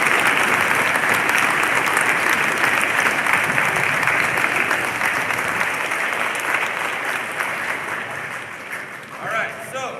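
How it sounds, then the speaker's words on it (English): Sustained applause from a middle school audience at a Veterans Day assembly, dense and loud for most of the stretch, then thinning and fading toward the end. "give yourselves a round of applause"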